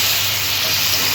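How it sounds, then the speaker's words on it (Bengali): Prawns fry lightly in hot oil, giving a steady, close sizzling hiss with no pauses and no voices. "হালকা ফ্রাই করে নিচ্ছি"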